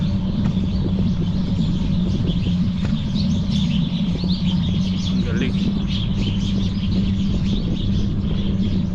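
Birds chirp and tweet faintly in a park over a steady low outdoor rumble, with a person briefly speaking nearby.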